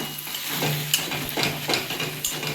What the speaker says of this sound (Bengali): এটা দিয়ে আমি একটু নাড়িয়ে নেবো